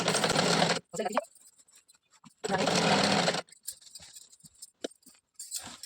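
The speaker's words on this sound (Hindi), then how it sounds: "अब इसमें हम सिलाई लगा ले रहे हैं" A sewing machine stitches pleats into fabric for an Afghani salwar, running in two loud, close bursts of rapid mechanical whirring separated by pauses filled with small clinks and handling noises.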